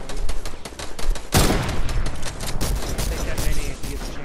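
Video-game gunfire in a squad battle match, with dense bursts of rapid shots and one loud close blast, continuing under the mix.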